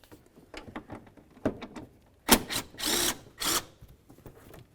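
A power tool whirs in short bursts as it backs out a 13mm head bolt from the fan shroud of a Ram 1500 pickup. Softer clicks and taps come before the louder buzzing spurts.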